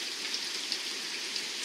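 Monsoon rain falling steadily on a porch in Fletcher, Vermont, a dense even hiss with a few brighter individual drop ticks, continuous and fairly close, without voices.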